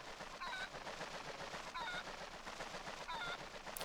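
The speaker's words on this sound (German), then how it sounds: "Ne, das ist ein Huhn." Three evenly spaced, faint chicken clucks from The Legend of Zelda: Twilight Princess HD, a squawk repeating about every second and a half over a murky game background.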